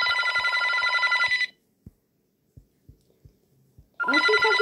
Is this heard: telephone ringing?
yes